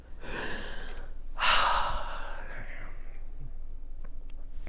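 A woman takes a deep audible breath in, then lets out a long breathy exhale that trails off into quiet room tone, close to the microphone, with no talking.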